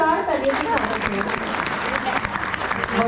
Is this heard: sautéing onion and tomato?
no